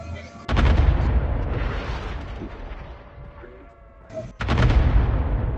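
Bursts of close gunfire in the mobile shooter Call of Duty Mobile, with two loud clusters of rapid shots at the start and near the end and a duller rumble between them.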